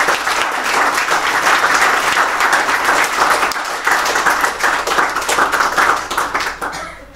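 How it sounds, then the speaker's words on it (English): An audience at an international permaculture conference gives a sustained round of loud, dense clapping that holds steady and then tapers off at the end. "let's give a final round of applause to George."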